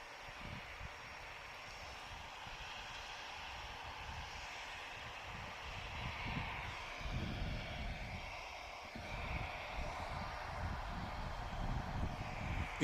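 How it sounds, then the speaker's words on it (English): An EasyJet Airbus A320 lined up for departure at Manchester Airport gives off a continuous, fairly distant engine roar that swells slightly over several seconds, with no voices. "EasyJet's lined up, going to Belfast, A320, GEZ PV"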